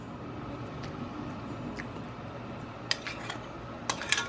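Blackberry habanero sauce stirred in a pot: faint soft scraping under a steady low background, then a few sharp utensil clinks against the pot near the end, close and quiet.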